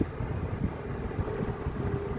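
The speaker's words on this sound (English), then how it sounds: "it's a little windy out here" Steady low wind rumble buffets the microphone outdoors during propane cooking at a van, a constant blustery roar with no voices.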